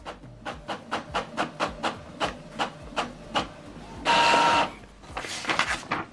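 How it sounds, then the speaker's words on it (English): An Epson Expression Home inkjet printer runs a test page, its print head clacking in a steady, close rhythm of evenly spaced beats, then a couple of louder whirring bursts of paper feed near the end. "Test print. Here we go. So now it's printing."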